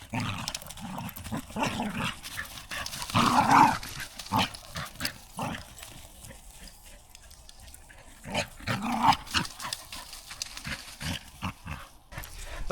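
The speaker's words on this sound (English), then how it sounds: "my dogs are going nuts there" Several dogs bark and yelp in bursts outdoors on a walk, intermittent and moderately close, with quieter gaps between the outbursts.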